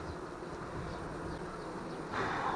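Buckfast honey bees at an opened hive, a soft steady buzzing drone of many bees heard close up, faint and continuous, with a brief louder rustle near the end and no talk.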